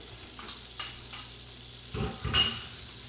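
Butter melts and begins to brown in a pan, a soft, steady sizzle broken by a few light scrapes and stirring knocks from a utensil, faint and close, with no talking.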